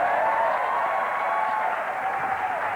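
Audience applause fills a large ceremony crowd at the Yale College Class Day ceremony: a dense, steady wash of clapping that holds evenly for a few seconds with no voices over it.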